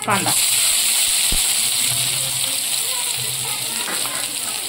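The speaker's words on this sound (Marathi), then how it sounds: "कांदा चांगला लाल होईपर्यंत परतून घ्यायचा।" Chopped onion fries in two tablespoons of hot oil with a quarter teaspoon of shahi jeera, a steady close hiss and sizzle that holds evenly through the whole stretch with no talking.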